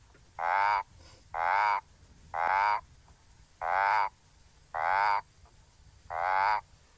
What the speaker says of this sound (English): you would think that this frog would grow tired of that call, that monotonous work-like call all afternoon or evening